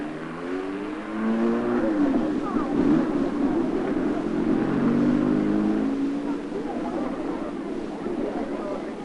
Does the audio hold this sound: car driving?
yes